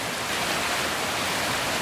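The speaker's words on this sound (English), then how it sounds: "Just look at the river." Fast, swollen river current rushing at Janda Baik in the rainy season, a steady, loud broadband roar of churning water with no breaks, close by and without voices.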